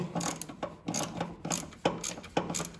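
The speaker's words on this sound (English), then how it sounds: "Throw a little ratchet on it and we'll be able to get that one out too" A hand ratchet turns a bolt on the water pump housing of a VW Mk1 Golf, Rabbit or Cabriolet. Its clicking comes in a steady back-and-forth rhythm of short bursts, close and clear, with no talk.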